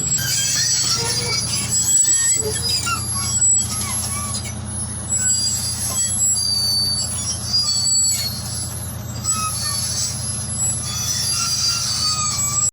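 A tracked construction machine with a chain running underneath works at a bridge construction site in Mirpur, Kashmir, giving a continuous close, loud low rumble with recurring metallic squeals and clanks throughout.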